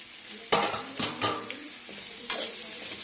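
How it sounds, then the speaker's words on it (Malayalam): Tomato goes into a pan of onion, green chilli, curry leaves, ginger and garlic sautéing in oil, with a few sharp stirring clanks and scrapes over a steady close sizzle, and no talking. "ഉള്ളിയും പച്ചമുളകും കറിവേപ്പിലയും ഇഞ്ചി വെളുത്തുള്ളി എല്ലാം നല്ലതുപോലെ വഴന്നു വരുന്നുണ്ട്. ഈ സമയത്ത് നമുക്ക് തക്കാളി ഇട്ട് കൊടുക്കാം."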